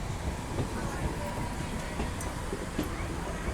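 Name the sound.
Ballari to Davanagere DEMU train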